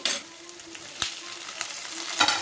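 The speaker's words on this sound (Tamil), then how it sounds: "தக்காளியும் நல்லா ஃப்ரை பண்ணி எடுத்துக்கணும்." Onions and tomatoes frying in oil for a cauliflower curry, a soft steady sizzle with a few sharp stirring clicks, close and quiet, no talk.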